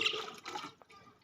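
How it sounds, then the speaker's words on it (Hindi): Brief splashing trickle of water poured into a container, close by, with small gurgles and a faint drip-like plop. "और मज़ीद पानी डालेंगे"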